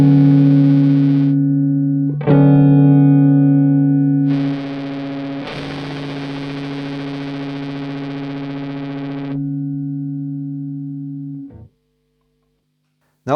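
Sustained tones from an Akkusativ effects pedal, two processed signals blended together with the range knob centered, a steady distorted chorus-like wash with brief pauses and shifts before cutting off near the end, no voices.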